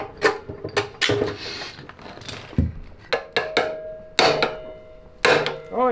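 Sharp, loud hammer blows strike a metal part on a Honda ATC 70 three-wheeler during an engine swap, about eight uneven whacks with brief ringing between them, close by.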